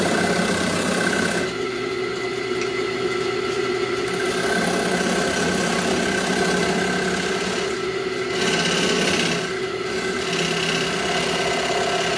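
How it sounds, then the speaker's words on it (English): A flat Bedan tool cuts a mortise into wood spinning on a lathe. The lathe hums steadily and loudly while the tool scrapes and rasps continuously, with a few short pauses in the cutting. "To use my Bedan tool, that flat tool right there gives me a clean mortise."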